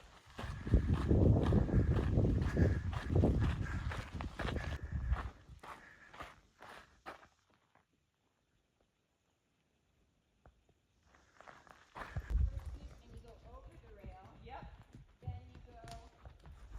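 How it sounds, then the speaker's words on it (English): Horses walk along a trail with steady clopping hoofbeats and footfalls, loud and close at first, then a pause, then quieter steps returning with faint voices heard. "Some horses on trail for a change."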